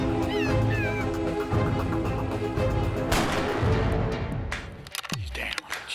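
A single gunshot rings out while hunting a gray fox called in with a fox distress call, loud and sharp near the end, following speech and animal-like distress cries.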